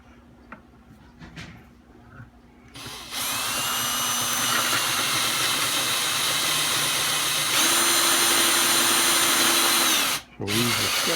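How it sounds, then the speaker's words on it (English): A power step drill bores a hole through a Yamaha F-325 acoustic guitar, a loud steady whine starting after a few quiet seconds, shifting pitch midway and cutting out briefly near the end. "So we use a step drill with a little bit of power."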